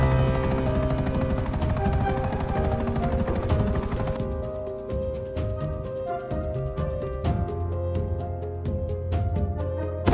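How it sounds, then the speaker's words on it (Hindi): A helicopter arrives above a building in GTA's Los Santos, a loud continuous thudding rotor roar that thins after a few seconds into rapid rhythmic beating with sharp clicks. "हेलीकॉप्टर जैसे ही बिल्डिंग के ऊपर आता है"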